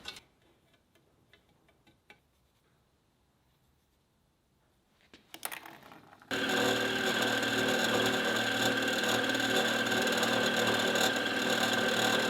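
A loud, steady power tool starts abruptly after a quiet stretch of faint tapping and handling, then grinds on continuously to the end, cutting a slot in an arm-mounted dart launcher.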